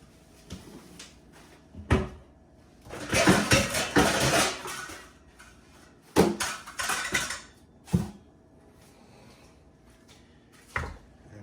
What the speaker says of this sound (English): So I'm going to grab a colander.